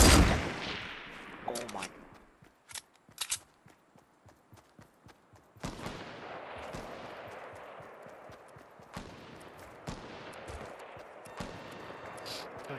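Sharp gunshots crack out in a game, several spaced bursts scattered over the clip at moderate distance, with a person's brief exclamation over them.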